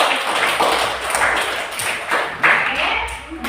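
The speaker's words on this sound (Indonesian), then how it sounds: "Tepuk tangan dulu." A class of children claps their hands together in a classroom, a dense, steady burst of many hands close by that fades slightly toward the end, with no one speaking over it.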